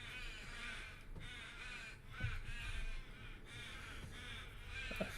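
Crows caw repeatedly outdoors, faint and somewhat distant, with harsh calls recurring roughly every second against a soft background hum and no talking.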